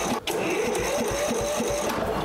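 Lawn tractor engine cranking over with the starter during a spark test, a fast, even chugging rhythm that holds loud and close for about two seconds.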